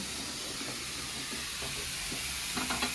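Snake gourd frying in oil while being stirred: a steady, close hiss of sizzling with a few brief scraping stir sounds near the end.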